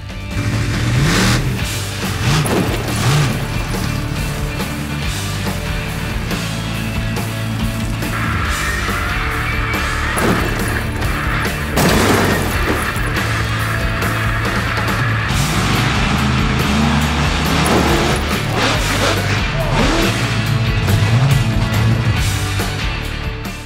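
A home-built monster truck, assembled from lorry and digger parts, crushes cars with a deep roaring engine that revs and surges repeatedly over a long stretch, with bursts of mechanical grinding and no voices.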